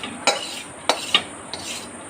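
A spoon scrapes through fish curry with potato and pointed gourd in a pan, making four distinct clinking, scraping strokes over a faint simmering hiss, close up and with no voices.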